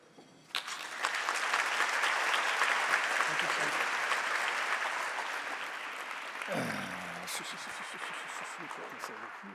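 An audience at a conference on caring for people with memory loss breaks into a burst of applause that swells quickly, holds steady, then tapers as a voice begins speaking over the fading claps.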